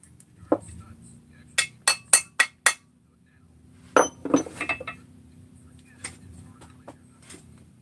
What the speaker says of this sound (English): So you just tap them in